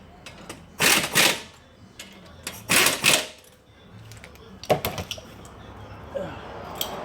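A 1/2 inch impact gun works on brake bolts on a Cadillac, giving two short loud rattling bursts about two seconds apart, then a quicker stuttering burst followed by a quieter stretch.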